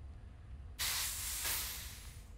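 A fire extinguisher in the video game Gylt blasts a loud, steady spray of hissing air that bursts on abruptly and holds for over a second before easing off, with no talking.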